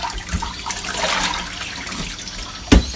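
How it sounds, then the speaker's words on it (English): Running tap water splashes over saltfish and vegetables being washed in a kitchen sink, a continuous close rushing and spattering with a brief louder clatter near the end, no voices. "I love to wash my meat, my fruits, everything, my vegetable before I start to do it"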